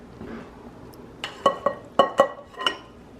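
Drained pasta tipped from a pot into a bowl of saucy mix-ins, heard as several close metallic clinks and knocks of cookware in quick succession over a soft background.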